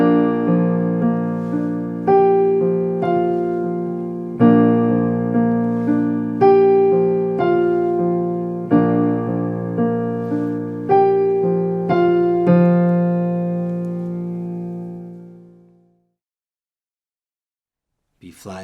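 Piano playing the first three measures of a song, a steady run of clear, close chords with both hands, the final chord left to fade out alone.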